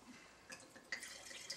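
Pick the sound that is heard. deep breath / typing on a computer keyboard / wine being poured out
wine being poured out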